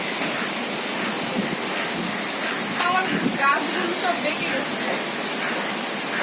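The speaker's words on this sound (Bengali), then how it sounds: "প্রচুর বৃষ্টি ঝড় দেখুন" Heavy rain from Cyclone Remal pours down in Dhaka with strong wind, a steady dense roaring wash that never lets up, loud and close, with faint voice-like sounds in the middle.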